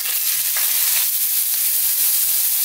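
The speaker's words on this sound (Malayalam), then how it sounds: "എണ്ണ ഒന്ന് ചൂടാകുമ്പോഴത്തേക്ക് അതിലേക്ക് നമുക്ക് 4 സവോള പിന്നെ ഒരു 6 പച്ചമുളക് കൂടി ഒന്ന് ഇടുക" Sliced onions and green chillies sizzle in hot vegetable oil in a pan, a steady, close, hissing fry with faint crackles and no voices.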